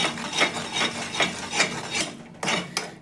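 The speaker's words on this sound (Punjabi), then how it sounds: "ਗੂੜ ਆਪਣਾ ਚੰਗੀ ਤਰ੍ਹਾਂ ਦੇ ਨਾਲ ਮੈਲਟ ਹੋ ਗਿਆ ਹੈ ਤੇ ਆਪਾਂ 2 ਮਿੰਟ ਇਹਨੂੰ ਇਸ ਤਰ੍ਹਾਂ ਹੀ ਚਲਾਉਂਦੇ ਰਹਿਣਾ ਹੈ" Melted jaggery is stirred in a pan with a rhythmic series of rasping scrapes, about one every half second, close and clear, pausing briefly before two more strokes, with no talking.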